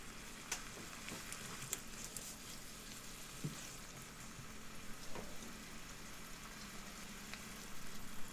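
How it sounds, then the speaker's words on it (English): Onions and pancetta or bacon bits frying in a pan for a chicken pie: a soft, constant sizzle with occasional faint crackles and utensil taps. "Then back in go the onions and the pancetta or bacon bits."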